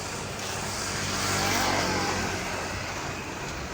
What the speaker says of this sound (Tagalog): Ayan guys, may mga motor.